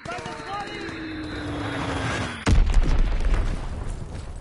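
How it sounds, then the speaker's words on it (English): A Fritz X guided bomb exploding in a PS4 video game: a sudden heavy boom about halfway through with a rumbling aftermath, preceded by a descending whistle, with game voice announcements and background noise. "Dropping Fritz X bomb."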